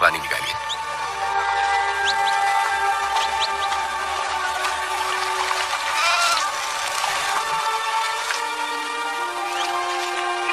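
Goats bleat repeatedly at a well in an ancient Egyptian setting, several wavering cries rising over a busy scene while people talk nearby.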